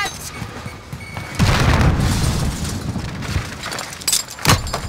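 A grenade explodes during a Call of Duty Modern Warfare team deathmatch, a loud booming blast that rumbles on amid game battle noise. Gunfire and further impacts sound around it.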